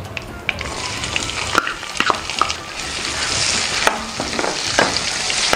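Onions sizzle steadily in hot oil with mustard seeds and cumin, close and fairly loud, broken by sharp scraping stirs and clicks of a spoon against the pan.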